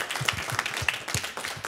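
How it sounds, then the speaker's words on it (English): An audience at a JCC Krakow event claps for two gentlemen in a short, sparse round of applause, with individual hand claps audible at close range. "I just want to give these gentlemen a round of applause"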